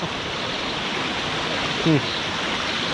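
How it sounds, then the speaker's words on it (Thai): A waterfall at Khao Hua Muak in Nakhon Nayok rushes steadily as a loud, even wash of water, with a brief faint voice sound near the end. "น้ำตกอะไรก็ไม่รู้นะ"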